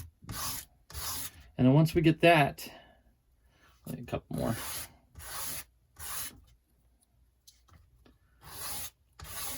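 Flat sandpaper rubs over the corners of a model rocket fin for an Estes K-4 Streak build, coming in short separate scraping strokes with pauses between them while someone talks over the work.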